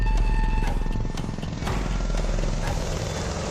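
An Apache military helicopter flies by with a loud, continuous rotor thrum and engine whine, holding steady and easing slightly midway, with no voices heard.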